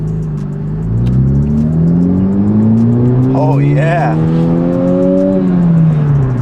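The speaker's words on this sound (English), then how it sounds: "You get a little more intake noise." Tuned 2020 Honda Civic Type R accelerating hard, its engine note rising steadily through a long pull with added intake noise, loud and close, while a voice speaks briefly over it.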